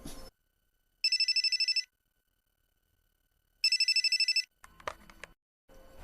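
A telephone bell rings in two long trilling bursts separated by silence, loud and close, followed by brief clattering handling noises.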